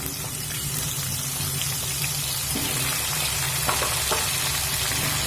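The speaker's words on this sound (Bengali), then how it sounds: "ওই একই তেলের মধ্যে দিয়ে দেব কেটে রাখা ফুলকপি" Cut cauliflower frying in oil, a dense, steady sizzle with fine crackling that holds evenly for the whole stretch, close up and alone with no talking.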